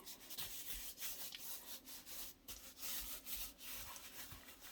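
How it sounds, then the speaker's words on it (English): Gloved hands rub seasoning into raw pork spareribs, soft repeated scraping and rubbing strokes at close range, quiet and irregular with no talking. "I kind of just rub it in."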